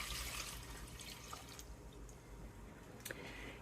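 Two cups of water and two cups of white vinegar are poured into a cooking pot for pickling pepperoncini, a steady close splashing and trickling with a few brighter drips.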